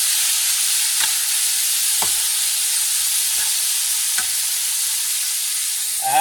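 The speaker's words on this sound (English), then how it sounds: "Let me mix things up." Paella with snails and chicken, plus green beans, artichoke and grilled fish, sizzles steadily in a pan, broken by a few distinct scraping stirs spaced about a second apart, with no talking.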